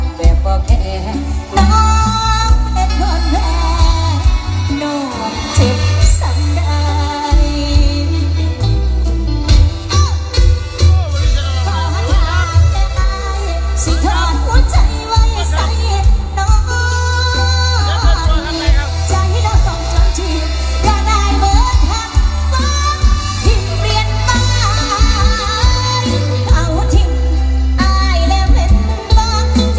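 Music plays continuously through a tiny speaker cabinet, a full and bass-heavy mix with steady beats filling the whole stretch.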